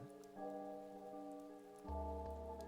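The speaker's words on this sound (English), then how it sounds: "the only sound in the alley was the sound of the rain" Rain falls steadily in an alley in the game Chaos;Child, a soft, even patter heard faintly beneath sustained tonal background music.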